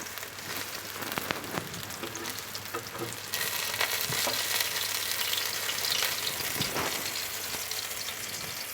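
Bean and capsicum pakoras fry in hot oil with a steady, dense sizzle and crackle that carries on unbroken, close and fairly loud, with a few louder spatters and stirring scrapes and no voices.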